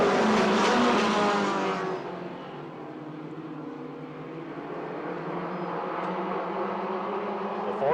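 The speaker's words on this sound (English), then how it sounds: "The 4-cylinder Dayton Daytona mini stocks here at the new Paris Speedway." Four-cylinder Dayton Daytona mini stock race cars roar around the new Paris Speedway, a loud pack of engines sweeping past up close before settling into a steady, slightly distant drone of racing machines.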